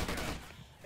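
Gunfire in the Call of Duty video game, a dense burst of shots at the start that trails off into quieter noise over under a second.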